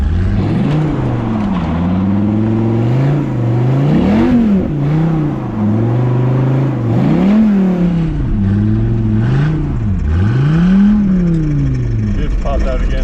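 Twin-turbo Viper pro drift car doing donuts, its loud engine rising and falling in repeated rev swings as it circles close by, with people talking over it.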